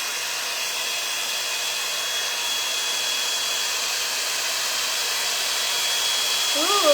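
A L'ange hot air brush blows a steady, loud rushing whoosh like a hair dryer, held close and unbroken for several seconds, with a brief higher sound right at the end.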